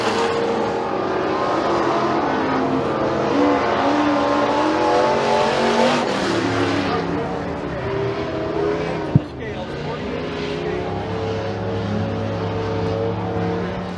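Pure stock race cars roar around McKean County Raceway at a green-flag start, a dense wall of engines revving and passing close, with a sharp knock near the middle and a commentator talking over the noise.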